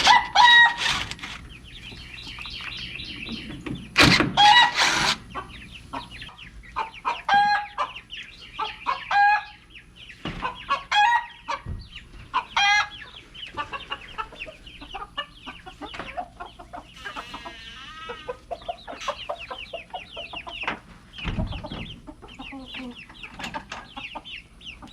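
Chickens in an established backyard flock cluck and call as new birds are brought in among them, with a busy stream of close, overlapping clucks and squawks and an occasional crow-like call throughout.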